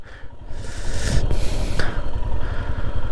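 Motorcycle on a solo ride from Siliguri toward Ladakh, up at Baralacha Pass above 4850 metres, its engine a steady close rumble with wind rush swelling in the middle.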